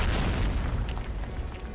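Explosion sound effect in a Predator versus Wolverine comic story, a loud, dense rumbling boom with rolling low-end that fills the whole short stretch, no talking.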